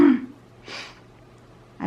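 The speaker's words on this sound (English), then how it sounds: "I'm going to maybe be clearing my throat quite a bit." Someone clears their throat a few times while unwell with a cold: a low rasping burst at the start, a second softer hoarse rasp a moment later, and another beginning at the very end, all close and alone.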